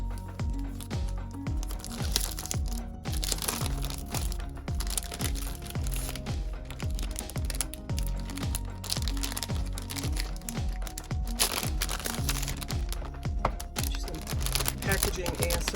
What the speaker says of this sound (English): Packaging ASMR.